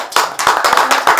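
Audience applause at a Korean live talk show, a dense, loud burst of many hands clapping with no voices over it.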